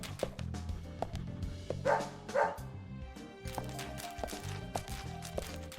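A dog barks repeatedly in the video game Deadly Premonition, with sharp yaps scattered over a busy game soundtrack and a louder burst near the middle.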